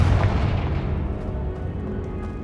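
A Confringo spell blast in Hogwarts Legacy, a loud booming burst at the start that rolls into a long, fading rumble of debris and echo, heard alone.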